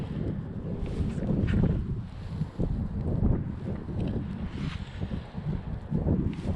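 Steady wind gusting into a lake cove in December, a low, rumbling rush with buffeting against the microphone that swells and eases without pause, no voices.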